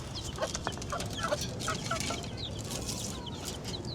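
Chickens clucking near and far while being fed on a farm, a busy overlapping chorus of short clucks and calls continuing throughout.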